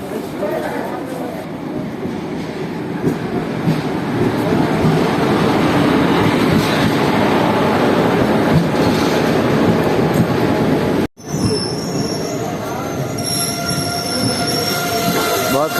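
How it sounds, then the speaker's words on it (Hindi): Passenger train pulling into Tamkuhi Road station, a loud, close, continuous rumble of wheels with squealing brakes and rail noise throughout, briefly cutting out before the steady clatter resumes. "अपनी ट्रेन आ गई भाई साहब"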